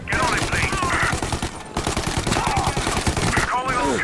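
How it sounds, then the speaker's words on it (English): Rapid bursts of video game gunfire in Mafia: Definitive Edition crackle throughout during a police chase, sharp repeated shots like automatic weapons, loud and continuous with brief higher whistling sounds mixed in. "All available officers, gunshots reported."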